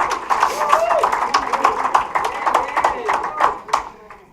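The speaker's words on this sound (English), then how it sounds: "give them a round of applause." An audience claps in applause at an event on stage, a dense run of quick handclaps under loud voices from the crowd and a presenter.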